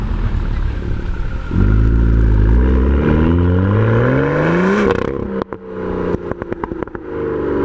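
A BMW M2 engine accelerates hard through several rising gears, a loud, growling exhaust note climbing steadily in pitch, then dropping off into sharp pops and crackles on the overrun.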